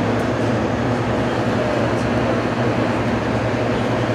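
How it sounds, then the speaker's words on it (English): Inside a passenger train travelling along the Fraser River, a steady, loud rumble and rolling hum of the carriage continues without a break, with no clear speech above it. "Now we're going through the same area on a train."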